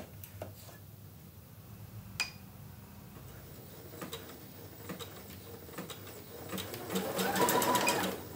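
Sewing machine stitching the outline of a cutwork key on fabric, a steady soft mechanical patter with small ticks, running faintly throughout and growing louder and busier near the end.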